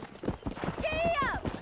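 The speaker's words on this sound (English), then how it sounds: "I'll show you how we ride around these parts." Hooves clip-clop rapidly in Red Dead Redemption, a galloping horse with a brief whinny rising over the hoofbeats, all heard beneath someone talking.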